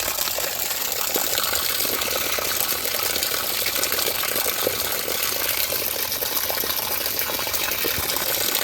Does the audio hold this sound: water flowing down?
yes